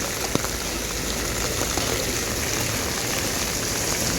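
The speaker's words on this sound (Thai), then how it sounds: "เช้าวันนี้ฝนตกนะคะ ตกหนักเลย" Heavy morning rain falls on a market in Sisaket town, Thailand, as a constant, dense hiss of drops on surfaces with no voices.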